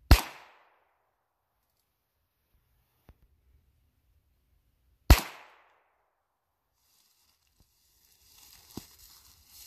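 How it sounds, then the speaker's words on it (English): Two sharp shots from a .22 handgun fired outdoors, roughly five seconds apart, each loud and close with a short decaying tail, followed by faint rustling and a small knock near the end. "let's shoot it."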